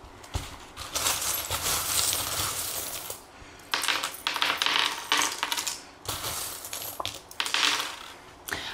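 Small metal charms are cast for a divination reading, giving bursts of clinking, jingling and rattling that come in several separate waves, close and fairly loud, with no voices.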